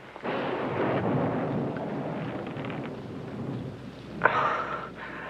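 A thunderstorm rolls on with a long, heavy rumble of thunder and steady rain, then a sharper crack of thunder near the end before the roar settles back down.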